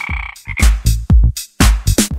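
A frog croaks loudly and close by in a series of deep, rasping calls with short pauses between them, standing alone without other sounds.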